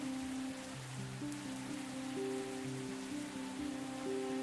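Steady rain patters in a video game scene, a soft wash of drops continuing throughout beneath sustained melodic background music.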